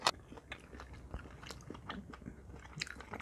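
Crispy skin of air-fried Chinese roast pork is chewed up close, with quiet irregular crunches and crackles from bite after bite and no talking.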